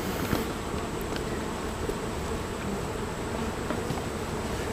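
Honey bees swarm around an open hive on a farm, a dense continuous buzzing hum close by with occasional individual bees flying past.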